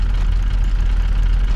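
A car engine in Car Parking Roleplay, on a car that broke down on the road, runs at a steady, loud idle with a low, even rumble and no break.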